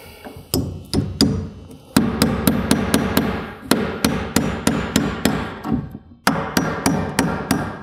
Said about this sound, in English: I'm just gonna get a nail started. And you wanna make sure you hit the